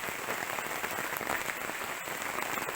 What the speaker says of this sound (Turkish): Yağmur bayağı şiddetlendi